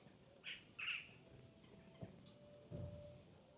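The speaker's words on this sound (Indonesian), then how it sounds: "Kayaknya itu burung gagak ya." Crows near an old church in Wageningen give a few scattered squawks, short separated calls at moderate distance over quiet outdoor background.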